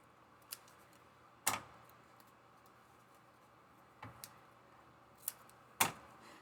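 Scissors trimming scrapbook paper for a layout, a handful of sharp, crisp snips spaced unevenly over several seconds against a quiet room, close and distinct with no talking.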